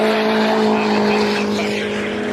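Race cars, including a Mini modified for track racing, roar loudly and continuously at Brands Hatch circuit, a close engine drone with a steady whine that fades slightly toward the end.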